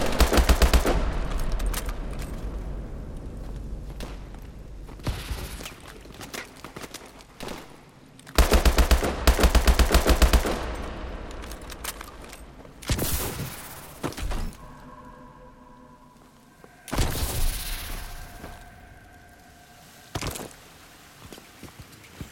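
Automatic gunfire and explosive thuds from a Call of Duty: Advanced Warfare firefight, loud bursts of rapid shots recurring in several waves with quieter gaps between them.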